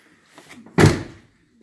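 A 2012 Ford F-150 pickup door shuts with a single solid, loud thud, preceded by faint rustling and a brief quiet tail afterward.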